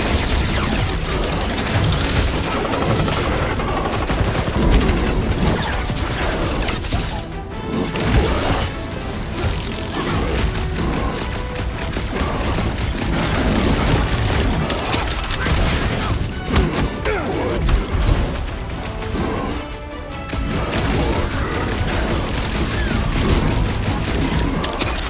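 A heavy weapon fires in the Marvel's Guardians of the Galaxy video game amid a dense, continuous battle mix of crashes, thuds and booms that stays loud throughout, with no clear single shot standing out.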